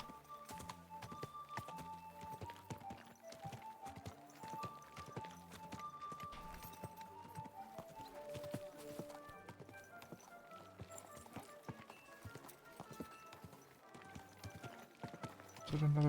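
Horse hooves clip-clop at a steady gallop in a video game, a continuous rhythmic run of close hoof beats lasting the whole stretch over a busy game soundscape.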